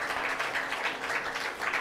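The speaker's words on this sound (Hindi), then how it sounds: "भगवान सत्यनारायण देव के लिए अद्भुत तालियां बजाना" Devotees clap during a Satyanarayan religious discourse, a soft, even, continuous patter of many hands heard at a distance with no voices.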